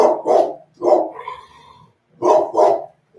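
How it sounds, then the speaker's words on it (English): A dog barks loudly and close by indoors in two quick pairs of sharp barks, with a short quiet gap and a faint whine or squeak between them. "Linka literally just barked so Fats would get up and go to the window"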